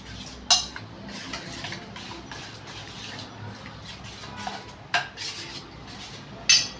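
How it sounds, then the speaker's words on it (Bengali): A spoon stirring beetroot into sour yogurt in a bowl, giving steady soft scraping and wet mixing with a few sharp clinks of metal against the bowl. "আমি এটা বিটটা একটা দইয়ের মধ্যে ভালো করে মিশিয়ে নেব"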